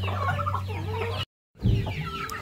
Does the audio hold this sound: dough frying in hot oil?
no